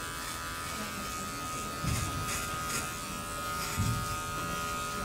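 Electric hair clippers buzz steadily while cutting hair, taking a little off at a time, with two slightly louder swells as the blades pass through the hair; no talking.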